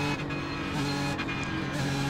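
A GT3 race car in iRacing at Lime Rock Park, its engine cutting out from low fuel; a steady, fairly quiet engine drone with brief dips and rough interruptions, no talk.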